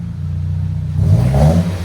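A 2012 Nissan Versa 1.8L with a Vibrant bottle resonator exhaust idles low, then revs up briefly, the engine note rising and swelling loud before easing off.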